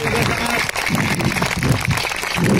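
Loud crowd applause at an outdoor yoga event in Coronation Park, dense and continuous clapping close by, with voices mixed in underneath.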